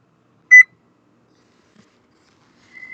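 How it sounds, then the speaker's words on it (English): A kitchen timer being set for 45 minutes while cabbage rolls cook in the oven gives one short, clear electronic beep, then a quiet stretch, and a faint steady tone begins near the end. "Set my timer for 45 minutes."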